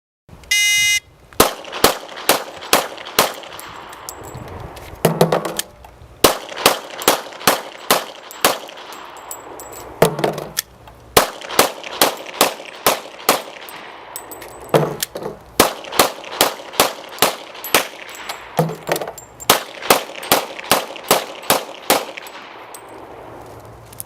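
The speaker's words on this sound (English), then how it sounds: "Now Jim's going to demonstrate shooting 5 6-round magazines." Gunfire in strings from 6-round magazines at a sheriff's shooting demonstration, sharp ringing shots in rapid bursts of about six, separated by short reload pauses, fairly close and loud.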